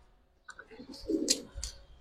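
Racing pigeons of the giribaz and high-flyer type coo softly at close range in a loft, a couple of short throaty murmurs rising over a quiet background with faint chirps.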